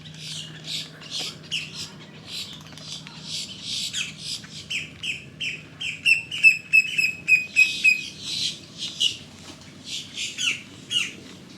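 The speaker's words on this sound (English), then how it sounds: "This tree's lifting with jabbering grackles." A flock of grackles in a tree at Lake Apopka, Florida, squawking and jabbering continuously, with shrill overlapping calls, chattering bursts and a brief run of whistled notes, moderately close outdoors.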